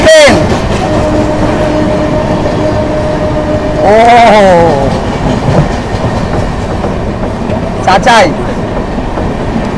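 The Amritsar Mail express runs alongside a fast Indian local train, with loud, continuous rumbling and rattling from the rails. Horn blasts ring out near the start, middle and end, and a voice briefly calls out.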